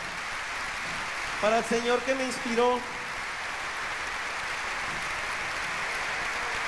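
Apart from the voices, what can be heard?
audience applause at comedy show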